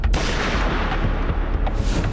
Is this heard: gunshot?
yes